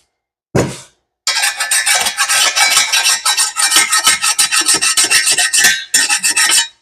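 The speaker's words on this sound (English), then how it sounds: "Take a flat file here and just kind of make sure" A flat file scraping old gasket material off a header flange on a big-block engine, close and loud, with rapid rhythmic rasping strokes after one short opening stroke and a brief pause.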